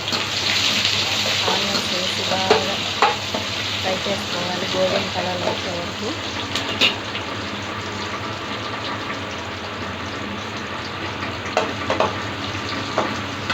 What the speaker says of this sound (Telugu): ముందుగా మనం ఒక బాణని స్టవ్ మీద పెట్టుకొని ఇందులో కావాల్సిన పోపులన్నీ పెట్టుకోవాలి